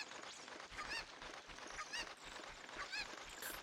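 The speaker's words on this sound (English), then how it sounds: "So this chicken's gonna be your best friend?" A cucco chicken in Ocarina of Time 3D gives short, squawky clucks about once a second. The calls are repeated and fairly clear over a soft game background, with no talking.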